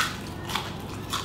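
A crispy, layered homemade cronut-style pastry, not made from pastry dough, crunches as it is bitten, with a few crackly bites and chewing close up and no talking.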